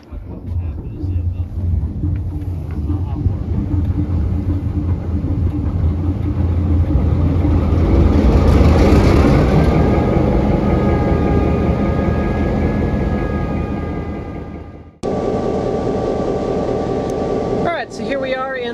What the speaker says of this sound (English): our locomotive is pulling today's trains